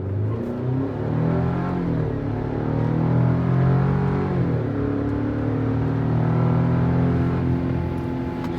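A 2024 GMC Canyon AT4 with an 8-speed transmission accelerates hard, its engine revving up through a rising drone, dipping briefly at a shift, then climbing again, close and loud with no talk.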